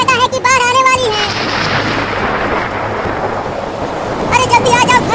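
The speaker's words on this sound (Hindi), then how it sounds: "मम्मी बादल गरज रहा है और बिजली भी गिर रही है।" A long roll of thunder rumbles through steady rain in a cartoon, with brief voices at the start and end of the storm noise.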